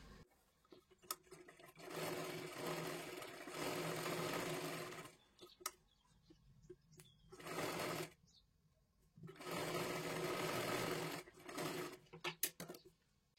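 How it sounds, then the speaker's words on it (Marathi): A sewing machine stitches along the side of a katori blouse in several separate bursts of steady whirring, with quiet gaps and small handling clicks between runs, close but moderately soft. "आता इथे पूर्ण बाजूला शिलाई मारायची आहे"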